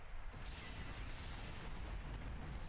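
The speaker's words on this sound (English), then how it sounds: "Big explosion." A booming in-game explosion from a Pokémon video game battle at a competitive event, a dense sustained roar filling the whole clip at moderate level, with no speech over it.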